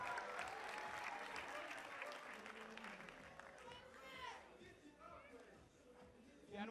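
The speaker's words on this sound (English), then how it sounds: "Everybody, please give a round of applause for these guys." Audience applause at the Mr. and Ms. International 2014 pageant, a steady wash of clapping from a large crowd that rolls on and thins slightly toward the end, with voices chattering and calling out through it.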